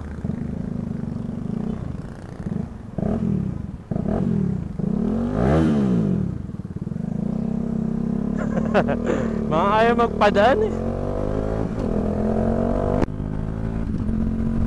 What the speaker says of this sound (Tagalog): Naka-silencer pala ako ngayon, kaya tahimik yung motor.